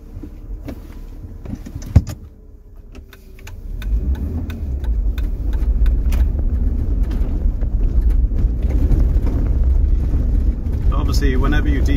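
Jeep driving north along the Quobba Coast road with tyres deflated, a steady loud engine and road rumble building after a few seconds of quieter cabin noise and clicks, continuous and close.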